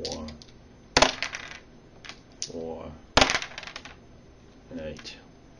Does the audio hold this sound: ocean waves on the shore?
no